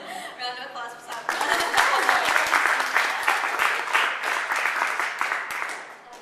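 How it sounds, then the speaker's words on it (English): Audience applause at a women's leadership committee panel, a dense wash of clapping that swells quickly and holds steady, with a voice speaking over the start. "Round of applause for Sabra."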